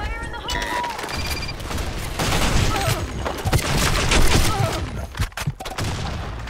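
A grenade blast and gunfire in the shooter Blackshot, competitive match on the Plaza map: loud crackling shots and booms pile up through the middle, with players talking over the action.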